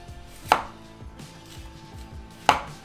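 Two sharp knife chops on a cutting board slice an onion into thin rings, spaced about two seconds apart, crisp and close against a quiet kitchen background.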